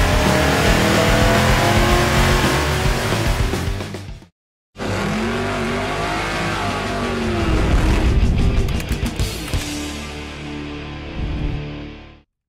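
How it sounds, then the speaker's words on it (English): A Ford V8 engine, a Dart 363 build on a dyno, growls loudly and revs up, cutting out briefly, then climbing again with rising, rapid bursts before dropping off. "You've heard the growl of the Ford V8."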